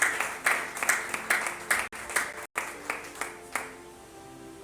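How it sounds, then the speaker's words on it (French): Rhythmic clapping in unison at a church closing ceremony, a steady beat of about two claps per second that fades toward the end, with voices or music running faintly underneath. "Acclamons très fort pour le Seigneur."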